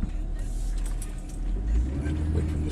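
A truck passes on a road in New England, a loud low rumble that swells toward the middle and stays heavy near the microphone, with a faint voice underneath.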